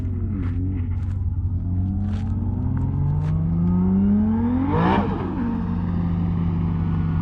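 Nissan S15 drift car engine revving hard and loud at close range, pitch sweeping up and down through the drift with a sharp rev peak near the end; no talk.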